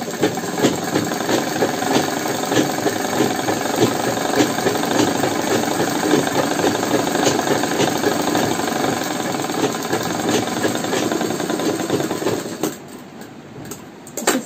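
Sewing machine stitching doubled blouse fabric, a steady loud mechanical whir with a fast regular pulse that runs continuously and stops abruptly near the end.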